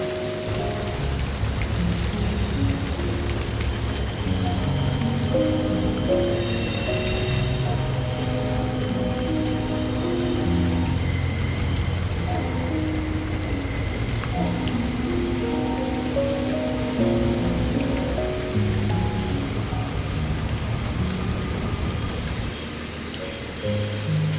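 Steady rain falls on a surface, a dense continuous patter heard from a night train passing through French wine country, with soft tonal hum and gentle musical tones running underneath throughout.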